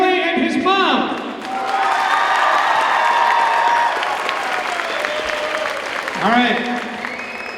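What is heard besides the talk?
audience applause voting at a school pep rally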